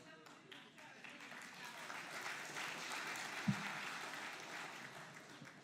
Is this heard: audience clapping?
yes